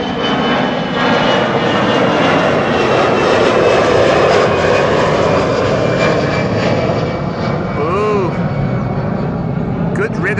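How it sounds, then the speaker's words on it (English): A Finnair Airbus A320 jet departs for Helsinki from Amsterdam Schiphol runway 24, its engine roar loud and steady throughout, with a bird chirping briefly near the end. "This is Finnair flight 1302 going to bloody Helsinki."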